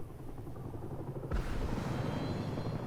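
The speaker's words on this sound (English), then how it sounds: "I don't want this chopper coming over here" A helicopter in the video game Fortnite rumbles at a distance, its low churning growing louder and closer partway through, with no voices.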